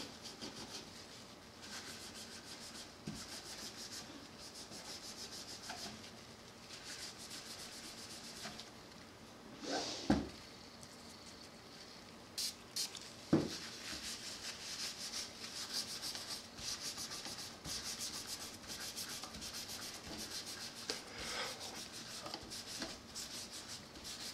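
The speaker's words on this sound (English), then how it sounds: "Just start at the first fret and just give it a good rub." A wet paper towel rubs along the frets and wooden fretboard of a hollowbody guitar, a soft continuous scrubbing texture close up, with a few sharper knocks partway through and no talking.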